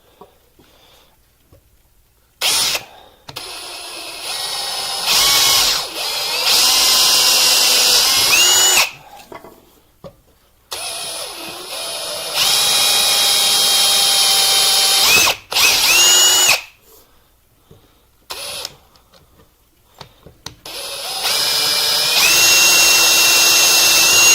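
A power drill whirs in several long bursts, pitch rising and falling as it bites, with short silent pauses between runs.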